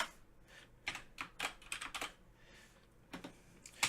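Someone types JavaScript code on a computer keyboard, with quiet, close key clicks in irregular bursts and short pauses between them.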